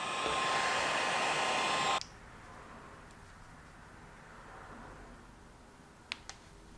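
Heat gun warming a Kayaba fork seal head from a Yamaha YZ85 clamped in a vise, a loud steady blowing hiss for two seconds that cuts off abruptly, leaving quiet room tone with two small clicks.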